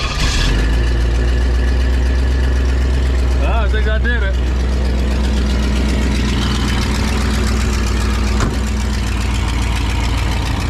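A 1967 Pontiac Tempest station wagon engine with an almost nonexistent exhaust runs at a steady, loud, close idle throughout, with a brief remark from a person partway through.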